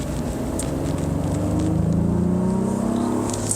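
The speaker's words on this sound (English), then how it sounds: "Accelerate out of the corners very well." A 2023 Honda Pilot Trailsport AWD SUV accelerates out of a corner, its engine droning steadily and rising gradually in pitch as it pulls, heard from inside the cabin with road rumble beneath.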